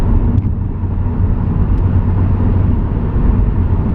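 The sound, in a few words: 2016 Subaru WRX engine accelerating in sixth gear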